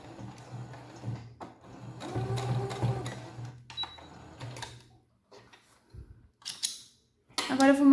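A sewing machine runs in bursts while stitching a fabric sousplat cover with a reverse-stitch finish, its mechanical whir rising and falling over several seconds, punctuated by short pauses and a few sharp clicks toward the end.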